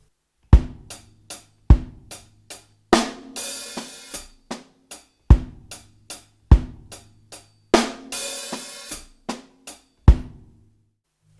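A drum kit plays a linear groove in 6/8, with crisp separated kick, snare and tom strokes and occasional crashing cymbal washes in a lilting triple-feel pattern, close and loud with no talking.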